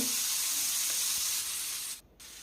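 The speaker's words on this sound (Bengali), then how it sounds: "তারপরে দিতে হবে এখানে ম্যারিনেট করে রাখা লাউগুলো।" Marinated bottle gourd pieces sizzle steadily in hot mustard oil in a pan, a close, continuous frying hiss that briefly cuts out near the end before resuming.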